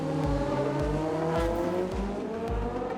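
A Race of Champions car at ROC Mexico 2019 drives hard, its engine revving and shifting repeatedly in a steady rhythm while tires squeal, loud and continuous throughout.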